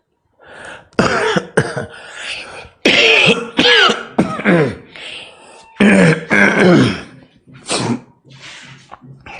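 A man clears his throat and coughs repeatedly in bursts, loud and close, while suffering from a cough and mild fever during an indoor oceanography class lecture.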